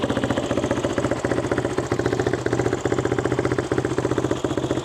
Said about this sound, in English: That was a cold start.